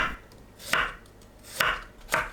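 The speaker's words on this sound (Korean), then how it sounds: "마늘은 편으로 썰어주세요." A knife slices garlic into thin slices on a cutting board, four distinct thuds at an uneven pace, close and clear with no talking.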